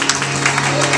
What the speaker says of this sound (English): Come on, clap those hands.